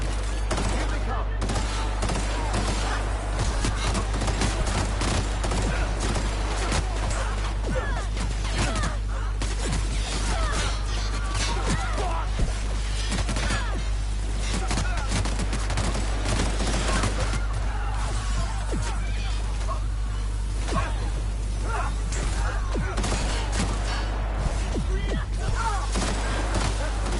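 Gunfire in The Outer Worlds crackles in repeated bursts and single shots throughout a busy firefight, mixed with clanks, impacts and occasional voices talking.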